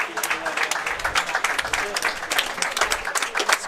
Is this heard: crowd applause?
yes